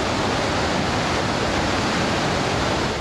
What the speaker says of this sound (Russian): в Монголии это самый большой водопад, полноводный, очень красивый